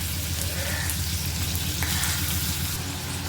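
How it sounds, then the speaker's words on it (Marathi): Finely chopped onion fries in oil in a kadhai, giving a steady, fairly quiet sizzle with soft crackles throughout. "त्याचा बारीक टाकलेला कांदा टाकायचा आहे"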